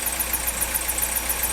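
A freshly rebuilt Citroen DS23 engine runs steadily at idle, a continuous mechanical hum with a faint rapid pulsing throughout, fairly quiet and even with no voices.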